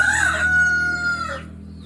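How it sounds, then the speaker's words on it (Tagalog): A chicken crows loudly and close at a home in Davao, one drawn-out call that fades at the end over a faint background hum. "Ibon na ito."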